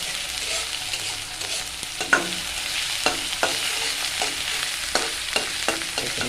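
Fermented bamboo shoot frying and being stirred in a pan, a steady close sizzle broken by repeated sharp scraping clicks of the spatula, with no talking.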